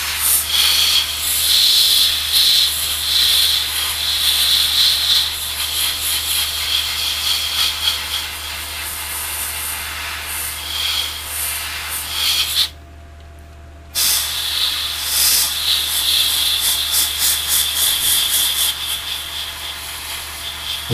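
Airbrush spraying thin paint at high air pressure onto a 1/48 Eduard FW-190 A5 model kit, a steady close hiss running continuously with one brief pause midway before resuming.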